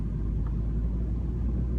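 A car runs while being driven, giving a steady low engine rumble and road drone inside the cabin, continuous and even, with no talking.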